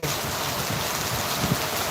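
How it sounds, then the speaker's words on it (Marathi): Steady monsoon rain falls in a continuous, even hiss, with soft drops pattering on a surface and no voices. "अगदी शेतकरी राजाच्या मनाजोगा पाऊस पडत आहे"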